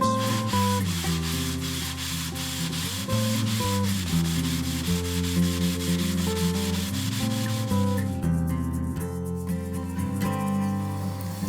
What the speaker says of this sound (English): I have the first section of my three-piece back clamped over here, and everything's ready to sand it